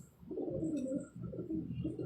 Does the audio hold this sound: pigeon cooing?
yes